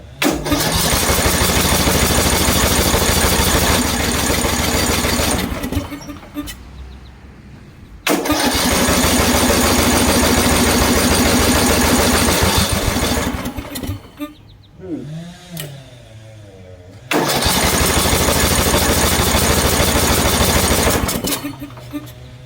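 A troublesome Briggs and Stratton small engine roars loudly and steadily three separate times, each run lasting several seconds before cutting out. A brief voice is heard in one of the quiet gaps.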